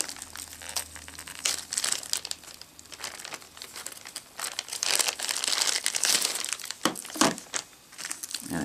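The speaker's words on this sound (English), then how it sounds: "And let's pull it out of the bag." A Vizio Co-Star Google TV remote is pulled out of a thin plastic bag, giving close, continuous crinkling and rustling with short crunchy bursts and no talking.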